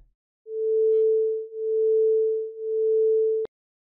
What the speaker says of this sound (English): we hear slower beats.